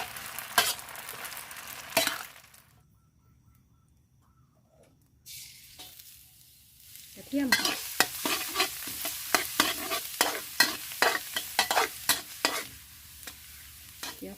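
Food sizzles in hot oil in a wok, then a brief lull, followed by busy stir-frying of seafood rad na noodles with rhythmic scraping and tossing in the pan, fairly close.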